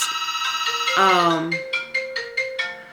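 A phone ringtone plays loud and close as a bright melodic tone sequence, followed by a run of evenly spaced repeating beeps, with no talk over it.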